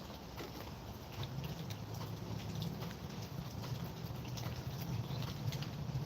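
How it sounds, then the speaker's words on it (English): Heavy rain falls steadily outdoors in Columbus, a dense, continuous hiss of drops with a faint low rumble beneath, unbroken and without voices. "it's been raining up here all day hard"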